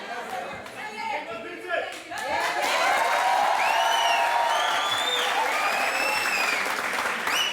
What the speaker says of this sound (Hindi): अब मुझे नहीं पता कि इन्होंने ये तालियां मेरे लिए बजाई